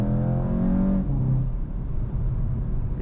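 A 2021 Volkswagen GTI cruising on the Autobahn, its engine note humming steadily at first before easing into a lower rumble of road and tyre noise heard from inside the cabin.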